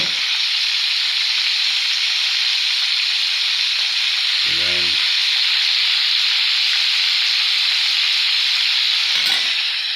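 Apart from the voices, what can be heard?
chicken frying in a pan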